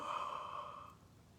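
A single soft yawn-like breath, close and quiet, rising then fading over about a second, with no voices.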